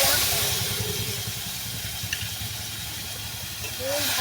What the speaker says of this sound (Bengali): দিয়ে মাছটা কিছুক্ষণ ভেজে নেব।